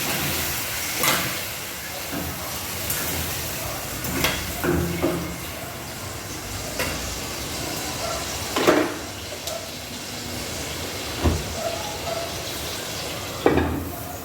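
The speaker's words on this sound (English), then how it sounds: "so I'm going to fry today" Lentil peas frying in a pot for a Jamaican-style meal, a steady close hiss and sizzle with occasional scrapes and clinks of a utensil against the pot.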